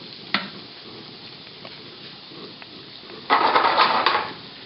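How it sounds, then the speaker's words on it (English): Steady sizzling of garlic frying in butter in a pan, a brief click near the start, and the hiss swells louder for a moment toward the end. "You can actually see it actually frying in the butter."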